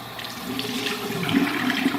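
Water runs from a tap into a sink while a face is rinsed, a soft continuous splashing hiss at moderate level with small uneven splashes, no talk.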